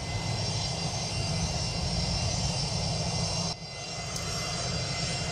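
An airplane lands in a crosswind, leaning to the right until it touches down: a loud, steady, broad engine roar that dips suddenly partway through, then carries on slightly softer.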